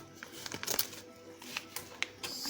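Plastic packaging being cut open with scissors in a home kitchen while cooking chicken in black bean sauce in a crock pot, giving quiet crinkling and rustling with a few small snips and clicks, close and soft, with no talk.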